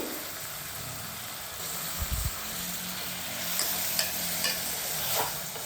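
Half a kilo of washed country chicken drops into a pan of sautéed ingredients in oil and sizzles steadily, with a brief thump as it lands and stirring scrapes after.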